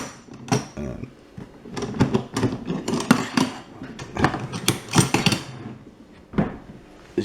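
A Stanley heavy-duty plastic toolbox, a £25 Screwfix model, is handled and opened, giving a run of close, loud clunks, latch clicks and rattles in uneven bursts, with no talking.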